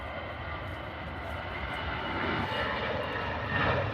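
An EasyJet airliner at Manchester Airport gives a steady, broad jet roar that swells slightly toward the end, continuous and fairly close, with no talk over it.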